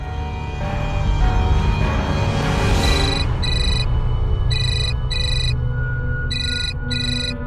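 A telephone rings in a home setting, repeated bursts of a bright electronic ringtone in an even rhythm following a brief rising tone, close and clear over a low background hum.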